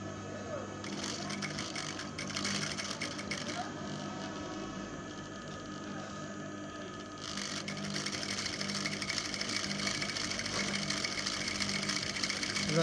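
Sewing machine stitching the collar of a kameez, a steady close whirring run with short pauses and changes in pace, while a person talks over parts of it.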